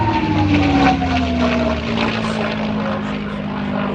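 Propeller aircraft in special commemorative markings at the Midlands Air Festival, its engine droning loudly and steadily with a slowly falling pitch as it passes, a voice faintly present under the noise.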